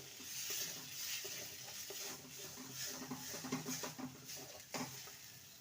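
Green peas being stirred in a pan for a snack, giving a soft scraping and gentle sizzle with irregular light stirring knocks, fairly quiet and steady throughout.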